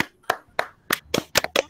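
Seven sharp hand claps in a classroom peer-teaching session, close and fairly quiet, irregularly spaced and quickening toward the end, with no talking.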